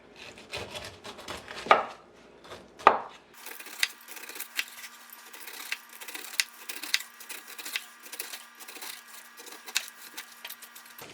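A knife cuts down the sides of a pineapple to peel off the skin, giving repeated scraping, slicing strokes and a couple of sharp thuds against the board, close up and with no one talking.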